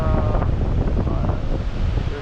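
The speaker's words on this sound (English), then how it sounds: "400 meters walk around brought us to this beautiful waterfall of melted glacier" Glacial meltwater waterfall near Perito Moreno Glacier in Argentina, heard as a steady, dense rush of falling water that fills the whole clip with a continuous, broadband roar, with no voices.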